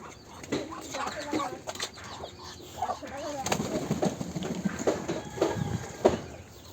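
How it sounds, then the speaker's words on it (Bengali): Chickens in a coop give soft, scattered clucks and short calls, fairly quiet and mixed with general farmyard background noise. "আর এটা হচ্ছে আমাদের মুরগির ঘর, এখানে অনেক কিছু থাকে।"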